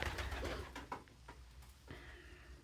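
Rescue pigeons or doves coo softly and faintly, a few low, breathy calls over a quiet room background with no talking.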